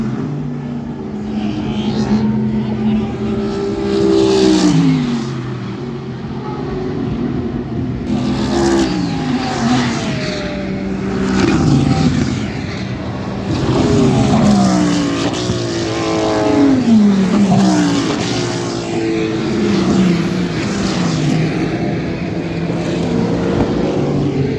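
Endurance race cars roar past near the Laranjinha curve, several loud engine passes swelling and fading one after another with rising and falling pitch.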